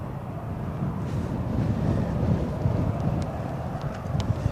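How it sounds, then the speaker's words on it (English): Wind blowing across an open spot at Birmingham Airport, a steady low rumbling buffet on the microphone with gusts rising and falling throughout. "Yes, the wind,"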